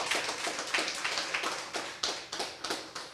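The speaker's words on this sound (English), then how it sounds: "give a round of applause to the Phillies Fire Department" Scattered, sparse clapping from a small group as applause for a fire department, with distinct individual claps ringing out in an uneven rhythm.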